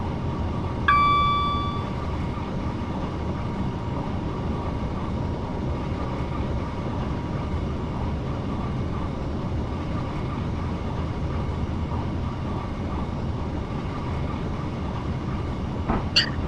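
A train rumbles along steadily from inside the cab on the Portsmouth to Waterloo line, approaching Petersfield, a continuous low mechanical roar with a brief tone early on and a sharp squeal near the end.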